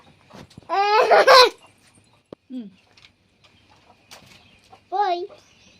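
A chicken gives a few short clucks between bursts of a child's chatter and laughter, close by.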